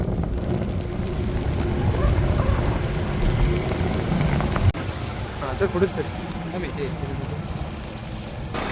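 Steady monsoon rain in the Sahyadri hills hisses across the scene with a constant broadband wash, a low rumble underneath and a sharp click midway.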